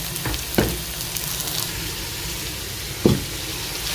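Chopped onion, ginger and garlic sizzle steadily in a hot pan, with two brief louder bursts as ingredients hit the oil or get stirred, close and without talk.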